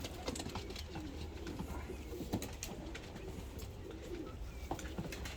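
Domestic pigeons from Kayseri coo in a low, repeated rolling pattern over steady background noise, with a few soft bursts and rustles between calls and no voices.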